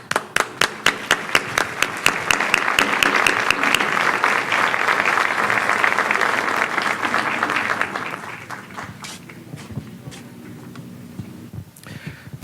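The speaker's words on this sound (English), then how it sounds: "Please welcome Mr. Domínguez Ferraez with a warm round of applause." An audience gives a warm round of applause to welcome a speaker at an event. Scattered claps swell into steady, dense clapping for several seconds, then thin out to a few isolated claps.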